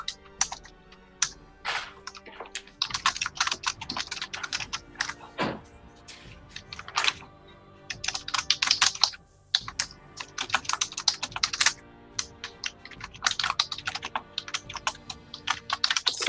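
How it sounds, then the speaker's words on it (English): Rapid, furious typing on a computer keyboard, dense bursts of key clatter with brief pauses, close and fairly loud, with no talking. "Such furious typing."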